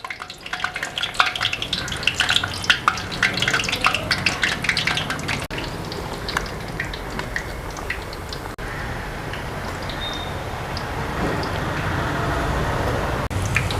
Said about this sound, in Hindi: तो जैसे जैसे मटरी फ्राई होती जाएगी वैसे वैसे ये तेल के ऊपर तैरने लगेगी धीरे धीरे